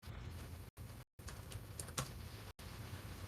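Someone types a command on a computer keyboard, a steady patter of key clicks with a few brief pauses and one sharper keystroke near the middle, close and clear with no talking.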